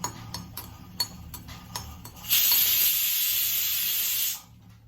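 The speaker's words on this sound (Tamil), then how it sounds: "ஒரு துண்டு பெருங்காயம் நல்லா பொரியிட்டோம்" A piece of asafoetida frying in hot oil in a pan: a few soft ticks and pops, then a loud, steady sizzling hiss for about two seconds before it quickly dies away.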